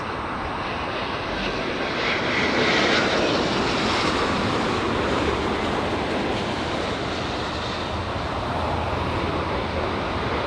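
An Iberia Airbus A350 from Madrid lands at LAX, its steady, loud engine roar sustained throughout as it flares and touches down, with no voices over it.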